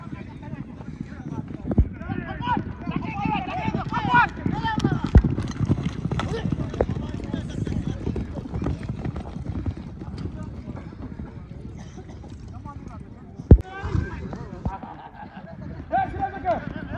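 Horses at the Osh hippodrome during a big ulak (kok-boru) horseback game, hooves drumming in a dense continuous clatter under a constant crowd roar, with loud voices and commentary over them and a sharp knock partway through.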